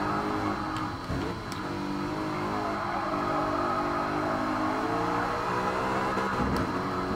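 A BMW M3 race car in Gran Turismo Sport pulls hard on the Nurburgring GP circuit, its engine a loud, steady roar that climbs in pitch as it accelerates, with no talking.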